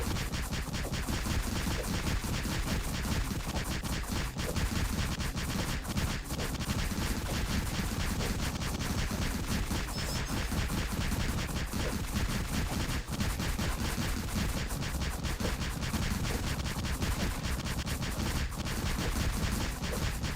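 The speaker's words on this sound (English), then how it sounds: "Now we're testing Meteor normal attack on GTB." Rapid dagger strikes of an assassin's Meteor normal attack with poison enchant in the game ROOG form a dense, continuous barrage of sharp hits at steady loudness, with no pauses over the whole stretch.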